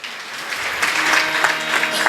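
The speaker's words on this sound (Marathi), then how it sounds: "आता तुम्ही ह्या टाळ्या वाजवल्या" A kirtan audience claps steadily for about two seconds, a dense, even patter of many hands with a few louder bursts, heard from within the audience.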